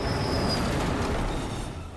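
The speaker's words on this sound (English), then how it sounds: "It's the monorail." A monorail train arriving in the video game Stellar Blade, a loud continuous rumbling roar of rolling wheels with a thin high squeal on top, steady throughout and easing slightly at the end.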